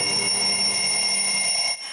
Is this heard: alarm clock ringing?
yes